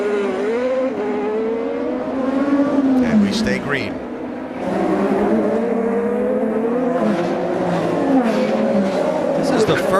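IndyCar race cars run on the Detroit street circuit, with engines whining and shifting pitch from the distance. A commentator talks over them almost throughout.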